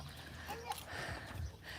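A horse on a farm shifts its hooves behind its stall area, giving a few soft clip-clopping steps amid low rumbling background noise and faint voices.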